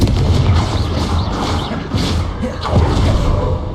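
Confringo fire-blast spell from Hogwarts Legacy erupting in a string of heavy booms and thuds across several seconds, loud and close, with overlapping crashes.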